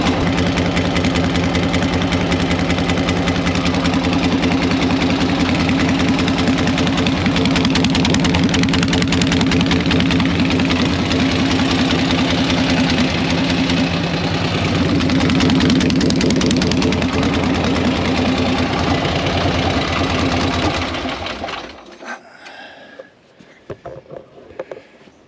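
A Harley-Davidson motorcycle engine idling loudly and steadily up close with an even low thumping rhythm for about twenty seconds, then cutting out, leaving a few faint knocks.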